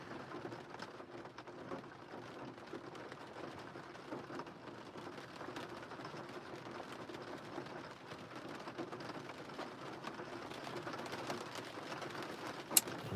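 Steady, consistent rain falls in a soft, continuous patter on surfaces, faint and even throughout, with one brief sharp tap near the end.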